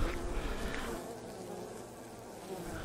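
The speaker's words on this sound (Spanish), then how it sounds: "miren, aquí hay abejas" Bees hum in a dense, steady buzz close by, the droning swarm continuous and unbroken throughout.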